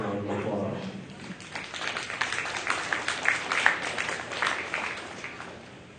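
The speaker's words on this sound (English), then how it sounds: "Please give these juniors a nice round of applause." An audience applauds junior exhibitors at a cattle show, a steady patter of many hands clapping in a large hall, rising to a fuller peak before slowly fading out.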